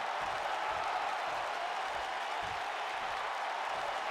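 Crowd cheers and applause fill a wrestling arena in the WWE 2K19 video game, a dense, steady roar held at an even, moderate level throughout with no clear speech.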